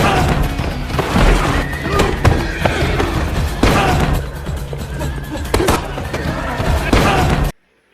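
A horse whinnies amid a loud, busy action-movie fight scene in a stable, with thuds, hoof clatter and impacts packed densely around it, cutting off abruptly near the end.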